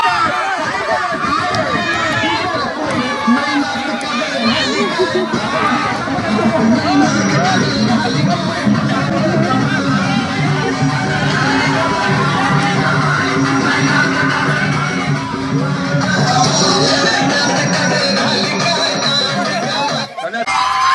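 A loud, dense crowd celebrates a village cricket premier league win outdoors, with continuous cheering, shouting and excited chatter throughout, briefly dipping near the end.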